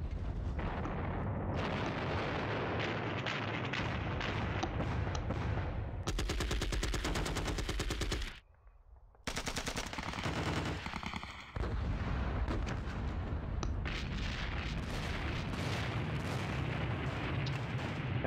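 Heavy support gun fire in a Normandy war game, loud repeated booming shots and rattling bursts in clusters, broken by a brief near-silent gap and then resuming strongly, with no talking.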